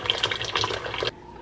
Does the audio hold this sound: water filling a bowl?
yes